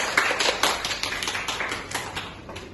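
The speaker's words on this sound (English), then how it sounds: "Okay, give applause to Tiara." A class applauds a student after a biology group presentation, a short patch of scattered, uneven clapping from a small group of hands, steady and close, with no talk.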